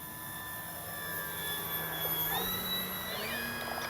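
An AVIOS Kobuz 2.2 m RC plane making a slow, low pass with landing flaps down, a steady whining motor drone whose pitch gently shifts as it goes by at moderate distance.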